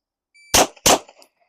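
Two sharp handgun shots fired one-handed at an outdoor range, close and loud, spaced about a third of a second apart, each followed by a brief ringing tail, with no voices.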